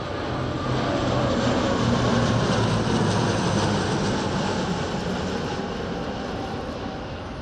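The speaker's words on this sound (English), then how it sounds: "a formation of 3 C-27 Spartans, followed by some flypasts by one of them." Military C-27 Spartan twin-turboprop transport aircraft making a flypast at a Romanian airshow, a loud steady engine roar that swells and slowly fades across the pass, with no voices.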